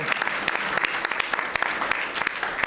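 An audience claps for the Climate One crew at the end of a live event, dense steady applause with sharp individual claps standing out, close and continuous throughout.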